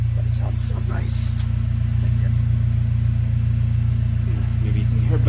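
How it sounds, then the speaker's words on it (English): A Mercedes W204 C250 fitted with an Armytrix downpipe idles close by with a steady, loud, deep exhaust rumble, and someone talks briefly over it. "let you hear the sound that my car's producing now"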